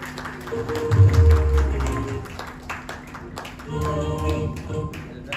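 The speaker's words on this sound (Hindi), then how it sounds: "जोरदार तालियां बजती रहनी चाहिए" Audience applause at an award ceremony in a Lemon Tree hotel, a moderate wash of clapping that swells, fades and swells again, with a voice over a microphone speaking above it.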